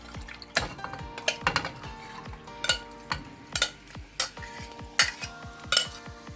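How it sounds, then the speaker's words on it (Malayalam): A spoon stirs Kerala-style mutton curry in a pot, giving a run of sharp scraping knocks against the metal at irregular intervals over a soft simmering sizzle, close and fairly quiet with no talk. "ഇനി നമുക്കിതെല്ലാം കൂടെ ഒന്ന് മിക്സ് ചെയ്യാം"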